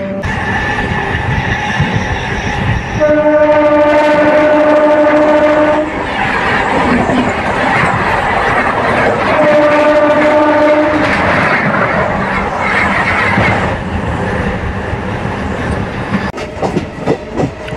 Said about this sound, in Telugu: వెల్కమ్ టు ఉలవపాడు రైల్వే స్టేషన్కి అయితే వచ్చేసిందండి మన ట్రైన్ అయితే.